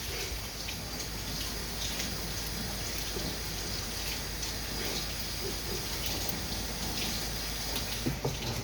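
A container being rinsed under a running kitchen sink tap while fish fried rice is prepared, giving a steady close splashing wash of water throughout with no talk.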